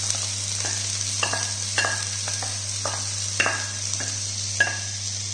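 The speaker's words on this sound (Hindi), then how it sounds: "जिहड़ा लसण ते अदरक पीसिया होया इहनूं मैं इत्थे गब्बे गब्बे भुन लूंगी" Ground garlic and ginger paste frying in a pan, with a steady sizzle under a constant electrical hum and repeated sharp scrapes and taps of a spatula stirring against the metal.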